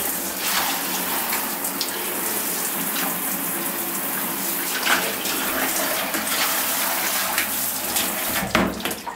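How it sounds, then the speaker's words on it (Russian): Cold water runs from a tap on a household supply fitted with a pressure reducer, a steady close rushing stream with small splashing variations throughout. "Открою холодную воду."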